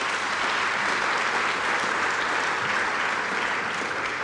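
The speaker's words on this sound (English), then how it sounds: "Give yourself a round of applause for that." Steady, dense applause from a large audience of company associates at a BMW X3 launch event at the Rosslyn plant, loud and sustained throughout with no gaps and no voices over it.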